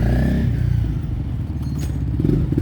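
A Honda CRF300L dirt bike fitted with a new CBR300 clutch rumbles and revs close by, its low engine burble pulsing unevenly with rattles and scrapes from loose tools during a test ride.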